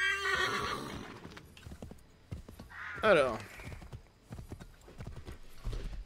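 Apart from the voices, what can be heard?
horse neighing and hooves in Assassin's Creed III video game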